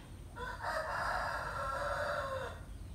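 A rooster crows once in a single long, loud cock-a-doodle-doo close by, with the call sustained for about two seconds over a light background hiss and no talking.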